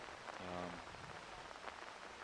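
Heavy rain pours steadily onto a golf course at a high school girls' golf championship, a dense, even hiss that fills the whole stretch with a faint voice briefly underneath.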